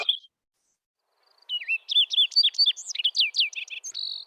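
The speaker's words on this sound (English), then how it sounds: "during this talk, I will play a bird sound" A recorded songbird plays during a virtual conference talk on the parts of a sound: a brief note, a pause, then a rapid run of high, clear, varied whistled chirps and trills lasting a few seconds, alone with no talking.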